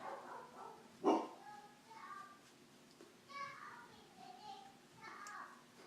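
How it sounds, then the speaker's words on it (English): A dog gives one loud, close bark, followed by softer barking and yips in the distance while people talk. "Why are the dogs barking?"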